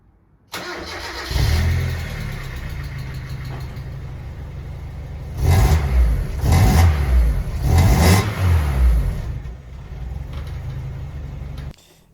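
Mazda Miata engine breathing through an exhaust with a hollowed-out catalytic converter: it starts, settles into a steady idle, then gives three strong revs around the middle before dropping back to idle and cutting off.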